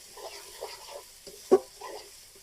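Spices frying in a pan while being stirred: soft, repeated scraping strokes with a faint sizzle, and one sharper clink of the spoon against the pan midway.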